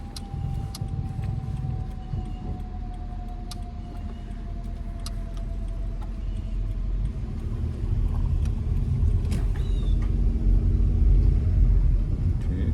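A car rolling along during a Florida driving test, with a steady low engine rumble that swells toward the end and a few small clicks and rattles inside the cabin.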